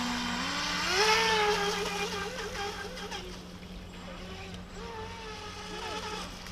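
The small motor of an Atomik Barbwire RC boat whines steadily, its pitch rising and falling as it speeds across water, with faint voices in the background.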